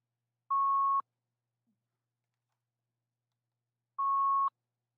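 Two short, identical electronic beeps sound on a phone call line, about three and a half seconds apart, with silence between them.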